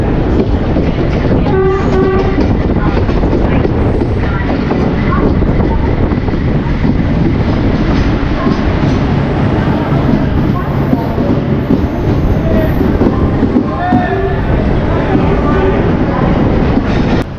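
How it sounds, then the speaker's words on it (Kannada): Loud continuous rumble and clatter of a train moving along the tracks at Mangalore Junction railway station, with muffled voices and announcements in the background. "Mangaluru junction railway station."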